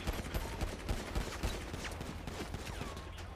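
Video game gunfire: dense, rapid bursts of shots and automatic fire rattle continuously at moderate loudness, with no voices.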